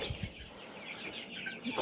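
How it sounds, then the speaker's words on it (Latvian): Newly hatched chicks in an incubator give soft, rapid peeps and faint chirps, close by and fairly quiet, with no talking. "Cāļi, var teikt, visi ir izšķījušies."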